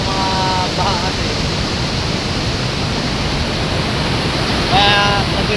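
Strong floodwater rushes through a flooded neighbourhood in a loud, unbroken roar of water that fills the scene from start to finish.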